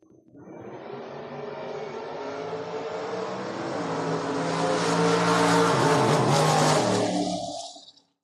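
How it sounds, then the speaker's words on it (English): A Ford Granada and a Chevy II launch side by side at a drag race, engines rising from a steady roar into a loud, revving pass that swells, then cuts off abruptly. "646 the dial in the Granada, taking on Mike Ferrari, 661 for the Chevy 2."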